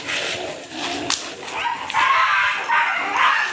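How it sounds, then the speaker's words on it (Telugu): Dogs yipping, whimpering and barking close by in an agitated bout, with a person's voice mixed in among the noise. "ఆ కుక్కలు ఎలగొట్టు నాన్న"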